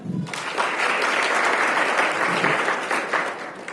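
Audience applause at a Flipkart corporate sellers' meet, a dense, steady wash of many hands clapping for several seconds before tapering off at the end.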